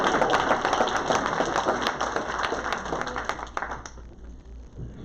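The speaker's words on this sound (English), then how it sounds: "I'll clap for you, Jim." An audience at a joint Rotary club meeting claps for the club president, a dense burst of applause that tapers off and thins out toward the end.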